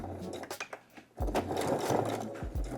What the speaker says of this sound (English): sewing machine, and we're going to stitch that folded seam allowance down